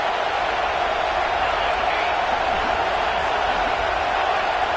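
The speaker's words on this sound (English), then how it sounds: "with this place rocking, the crowd forces a false start" A packed stadium crowd roars continuously at a college football game between Florida and Utah, a dense, loud, unbroken wash of noise with no pauses.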